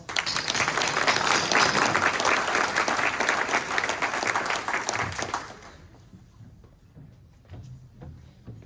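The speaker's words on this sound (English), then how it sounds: "I'd like to introduce and give Mary Shear a round of applause." Loud applause fills the room at a Madison County breakfast as an award recipient is introduced, then tapers off after about five seconds into scattered claps and quiet room noise.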